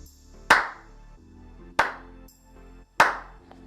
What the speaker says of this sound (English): So you can see if I clap.